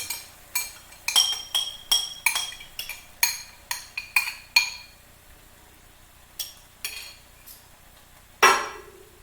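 Canned tomatoes going into a pot of vegan three-bean chili: a quick run of bright metallic clinks and taps at uneven intervals, close and fairly loud, followed by a heavier clunk near the end, with no talking.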